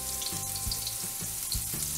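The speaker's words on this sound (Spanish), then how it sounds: "Vamos a agregar la cebolla picadita." Chopped onion frying in a pan makes a loud, continuous sizzle, with a few low thumps as the pieces are moved.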